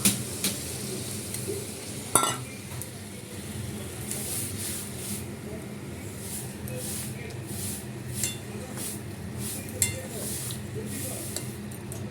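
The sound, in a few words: meat curry cooking and being stirred in a pan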